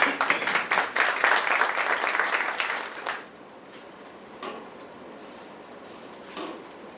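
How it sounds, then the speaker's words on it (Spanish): An audience at a legal symposium applauds loudly for about three seconds, then the clapping stops and only quiet room noise and a few faint sounds remain. "Un aplauso."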